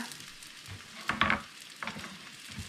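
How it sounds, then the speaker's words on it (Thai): Garlic drops into a hot pan with fried tofu and sizzles, and a utensil stirs and scrapes through the oil in a few short, louder bursts over a constant frying hiss. "เสร็จแล้วเราก็ใส่ กระเทียมลงไปนะคะตามปกติค่ะ"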